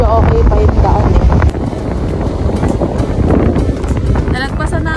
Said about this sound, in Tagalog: Lakas na ng hangin.